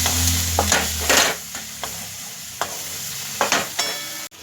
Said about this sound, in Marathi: हळद धनिया पावडर आणि लाल मिरची पावडर पूर्ण तेला तेलामध्ये व्यवस्थित परतून घेऊया